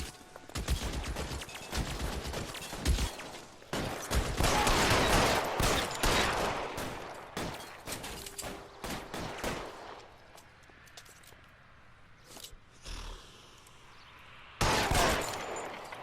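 Gunfire in a shootout in L.A. Noire, dense bursts of rapid shots and machine-gun fire in loud clusters, thinning into sparser cracks and quieter stretches before a final heavy volley.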